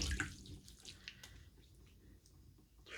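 A razor is rinsed under running water during a wet shave, giving faint close splashing and dripping with small clicks over a quiet background and no talk.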